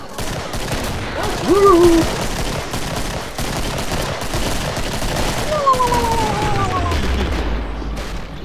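Rapid gunfire in the Killing Floor co-op zombie shooter, a dense stream of close shots and bursts with players shouting and whooping over it.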